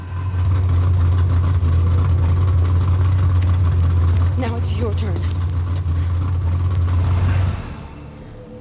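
Steady low engine drone of a V8-upgraded car in the Mad Max video game, holding loud and constant for about seven seconds before cutting off, with game dialogue and a voice speaking over it.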